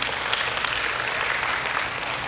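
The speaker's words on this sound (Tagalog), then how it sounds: "Pumalakpak nga ang lahat na nag-amen." Church congregation applauding after a sermon, a dense, even wash of clapping from many hands, sustained and loud with no speech over it.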